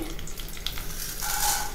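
Hot oil crackles and sizzles steadily as chopped dried red chillies and tempering spices are added, a brief close-up frying sound with no voices.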